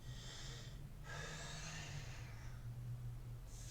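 Heavy breathing during a workout: close, forceful breaths in repeated bursts, each a rough airy rush, with a faint low hum beneath and no speech.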